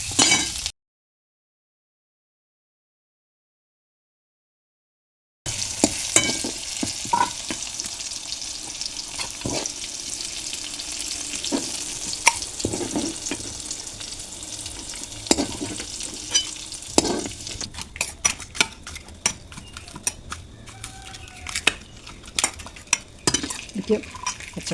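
Brinjal sautés in oil in a home kitchen, a low sizzle under frequent stirring and clinks of a spoon on the pan. Sharper scraping builds toward the end, following a brief silent gap near the start.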